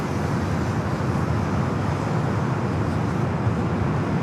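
Japan Airlines jet departing Los Angeles International Airport for Tokyo Narita, rolling down runway 25 right with a loud, steady broadband engine roar throughout.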